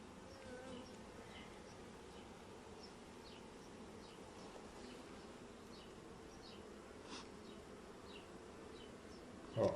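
A colony of black honey bees hums steadily inside a hive, a soft continuous buzz with scattered individual bees flitting closer, and a brief louder knock right at the end.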